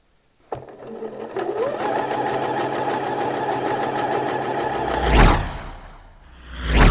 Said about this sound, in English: just do a line of stitching along that side seam there